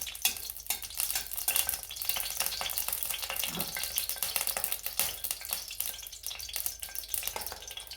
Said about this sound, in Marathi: आपण सात ते आठ लवंगा घेतल्या होत्या त्या थोडासा परतून घेणार आहोत